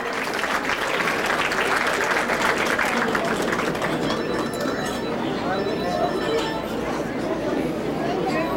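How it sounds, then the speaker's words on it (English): A crowd at a fundraising dinner applauds loudly, with thick clapping in the first half that gives way to chatter and murmuring voices as the applause thins out. "Give her a big applause."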